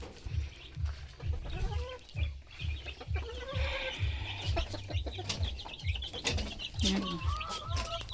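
Backyard chickens with their now well-grown chicks, soft rhythmic clucks and low chatter repeating close by, with a few higher peeps and calls layered over, and one brief word spoken.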